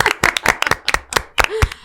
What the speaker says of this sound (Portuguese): Palmas pra mim!